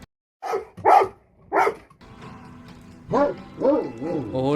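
Barks from a dog character in a horror video game about a dog caring for a cat, three or four sharp yips spaced apart, then a low game drone with a rising, wavering whine-like sound at the end.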